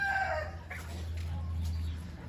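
Chickens in a coop cluck and squawk close by, with a sustained low call under a short high cry.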